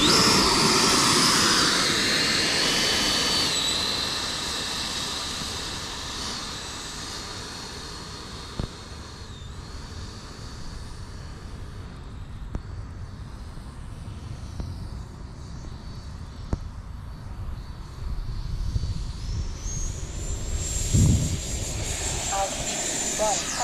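Freewing F-4 Phantom 90mm electric ducted-fan RC jet on an 8S setup, a loud whooshing turbine-like roar at the start that fades as the jet climbs away, with a rising whine and a swell of rumble near the end as it passes.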